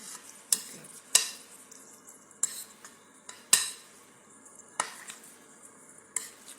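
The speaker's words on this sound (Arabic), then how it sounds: "كتحركوا مزيان بهذه الطريقه هذه" A spoon scrapes and clinks against a pot in sharp, spaced strokes while stirring a mixture with a spoonful of olive oil, with a faint background sizzle.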